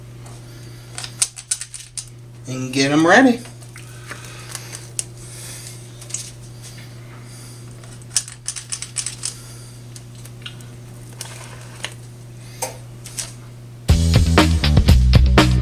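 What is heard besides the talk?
cookie scoop scooping red velvet dough onto parchment paper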